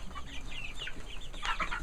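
Chickens cluck and chirp softly in a mobile chicken run where smaller chicks are kept apart from larger hens, a low continuous chatter of several birds close by with no talk.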